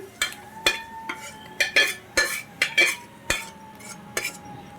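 A metal spoon scrapes and clinks against a pot while lemon rice (pulihora) is mixed, with about ten sharp, irregular strokes close by and no voices.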